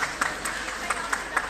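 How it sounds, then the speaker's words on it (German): A children's audience at a festival magic show in Germany claps briefly and unevenly, with sparse individual claps over a murmuring room. "Das war dein Applaus übrigens gerade"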